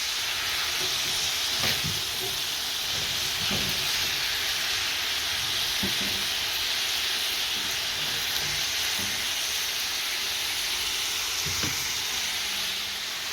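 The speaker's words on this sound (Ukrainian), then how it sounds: "Смажу на олійці." Steady, loud sizzling of vegetables frying in hot sunflower oil, with occasional soft clinks of a utensil stirring in the pan.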